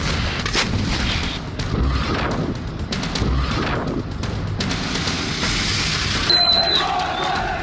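Tank guns firing artillery shells from dug-in positions in the Israel–Hamas conflict, a series of sharp loud blasts booming repeatedly over several seconds amid continuous battlefield noise, with a brief high whistling tone near the end.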